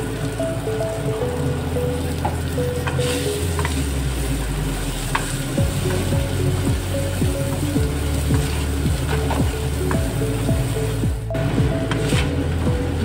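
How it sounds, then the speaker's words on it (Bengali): Rice and lentils fry with peas, salt and turmeric for a cauliflower-potato khichuri, a loud steady sizzle broken by repeated scraping strokes of a spoon stirring through the pan. "ভাজা হয়ে গেছে চালে ডালে।"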